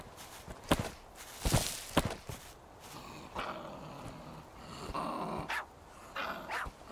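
A prairie dog in a survival video game growls and snarls in short rough bursts between rustling footsteps, fairly close and moderately loud, with no talk over it.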